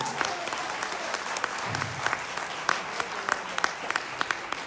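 A seminar audience claps steadily with sharp scattered hand claps standing out, moderate loudness, with a brief low murmur partway through.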